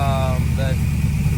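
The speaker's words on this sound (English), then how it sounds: "So El Camino's back up and running." A Chevrolet El Camino's engine, running again after a repair with a replacement coil harness, idles with a steady low rumble close by, with a voice speaking over it at the start.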